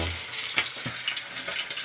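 Dried lamayo fish frying in a pan at home for breakfast, a soft, steady sizzle and crackle with small pops, faint and close, no talking.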